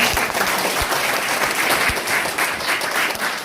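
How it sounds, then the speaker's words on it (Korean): Audience applause fills a party election committee's disbanding ceremony in a conference hall in Incheon, a loud, sustained wash of clapping with a few sharper individual claps standing out near the front. "그래서 우리 모두 한번 박수 한번 쳐주시면"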